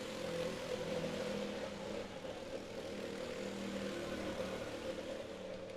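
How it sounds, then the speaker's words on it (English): Racing lawnmowers compete in a 12-hour endurance race, their small engines droning steadily as they circle the track, a continuous buzzing roar at moderate distance with no clear pass-by peaks and no voices. "watching lawnmower engines on wheels go round at rapid rate."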